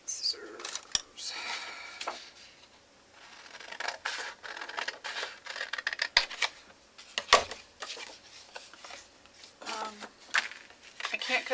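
Scissors snipping through paper cardstock while trimming a swirl and large snowflake for a Christmas card, giving irregular close crisp cuts and rustles mixed with handling noises.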